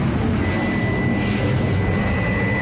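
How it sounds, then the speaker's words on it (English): Aircraft engine drone for a robot plane in a Wonder Woman audio drama, a loud continuous roar with a steady high whine running across it, sustained without pause and no voices. "Faster, faster, robot plane."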